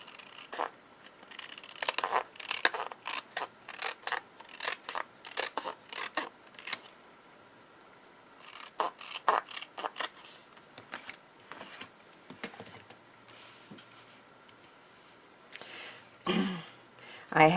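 Scissors snip and trim paper for a handmade box card, a quick run of short crisp cuts in bursts with pauses between, close and moderately loud.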